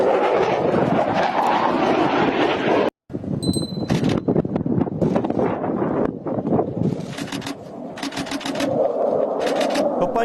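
Loud, close roar of a Pakistani fighter jet flying over the Panjshir valley, a sustained rushing drone with heavy wind buffeting that cuts out briefly, then returns with crackling bursts.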